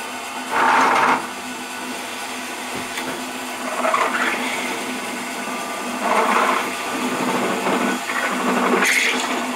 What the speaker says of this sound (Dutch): Ik ga dit gat nog boren